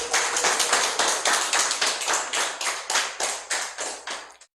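An audience at a lecture for senior leaders claps in rapid rhythmic bursts, dense even applause with a regular pulse, close and fairly loud, ending abruptly with no talk over it.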